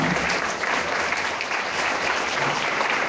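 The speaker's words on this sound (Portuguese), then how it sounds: "dê uma salva de palmas para Jesus" A church congregation bursts into steady, dense applause that fills the whole moment, loud and continuous without a break, a broad wash of many hands clapping together.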